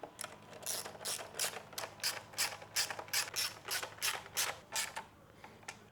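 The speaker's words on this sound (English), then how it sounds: "The bolt uses an Allen key, and then this is just a 10mm nut to tighten down." A ratchet tightens a 10mm nut on a fender eliminator kit for a 2022 or newer Honda Grom, giving about a dozen rapid, evenly spaced clicking bursts up close with no voices.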